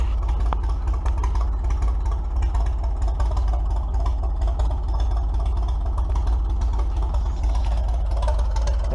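An old F20 tractor engine runs steadily at a constant idle until its fuel is used up: a loud, even, low mechanical chug with a fast regular beat, close by and without talk, for the whole stretch.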